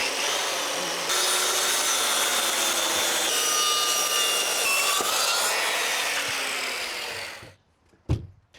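A power saw cuts a timber board on a rake for a retaining wall: a loud, continuous broadband whine for about seven seconds, then it spins down and stops, followed by a single short knock.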